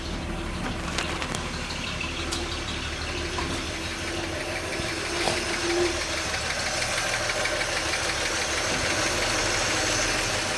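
A 1941 Chevy Coupe engine runs continuously as it warms up, a steady, fairly loud idle with a faint knocking rhythm and no voices over it.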